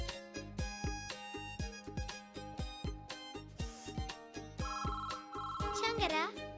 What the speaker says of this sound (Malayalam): ഫോൺ അമ്മ വിളിക്കുന്നു.